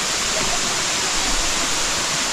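Balagbag Falls, a waterfall in Quezon, pours with a steady dense rushing roar, close and loud, unbroken for the whole stretch with no voices.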